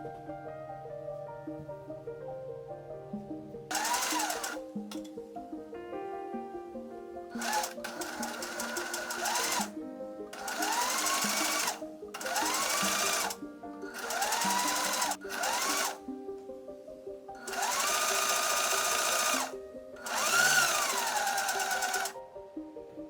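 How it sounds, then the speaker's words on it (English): Home sewing machine edge stitching a facing onto a button-up shirt front, running in several bursts of rapid even stitching separated by short pauses, close and clear with no talk. "Align the front facing with the shirt front and edge stitch in place."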